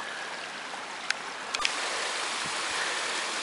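A waterfall and stream at Shangri-La Arch in Carter Caves, Kentucky give a steady, even rushing hiss, with a few faint knocks and tones over it.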